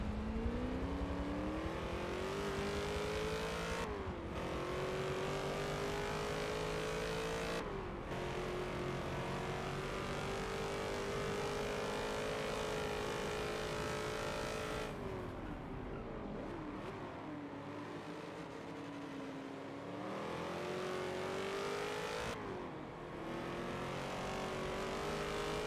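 Race cars in the Forza video game lapping Sebring International Raceway at speed, engines droning and revving continuously with rising and falling pitch as gears shift, loud and steady throughout with no talk.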